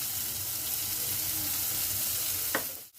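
Cabbage and boiled rice sizzling and frying in a pan for a vegetable fried rice, a steady close crackle with a brief clatter of stirring near the end and no talk.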